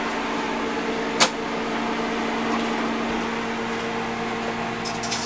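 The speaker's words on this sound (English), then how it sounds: "I'm stirring it before I put it back in the microwave for a moment" A kitchen microwave oven runs while heating gravy, giving a steady, continuous mechanical hum. One sharp click stands out early, and faint clinks come near the end, with no talking.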